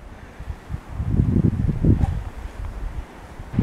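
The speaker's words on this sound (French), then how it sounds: "Là, le vent se lève." Gusting wind in winter woods, rising and falling in rough low rumbles with rustling, close and fairly loud against the microphone, no voices.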